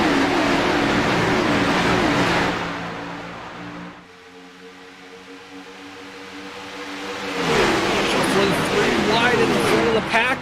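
Stock cars accelerating at the green flag in the NASCAR iRacing game at Daytona International Speedway, with a loud, dense pack roar that dips, then swells back up, under a commentator's continuous speech.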